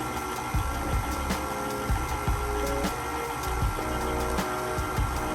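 An electric mixer on low churns cheesecake batter with a steady motor hum and repeated rhythmic knocks of beaters against the bowl, close and without talking.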